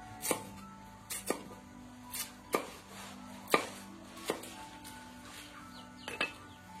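Plant material being chopped for homemade liquid organic NPK fertilizer, about nine sharp, evenly spaced knife strikes against a board, fairly quiet, with faint bird chirps in the background.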